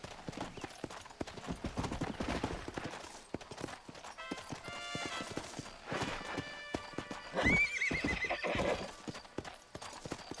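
Rhythmic clip-clop of horse hooves in the video game Red Dead Redemption, then a loud shrill whinny rising and falling, with a second neigh following, all fairly close.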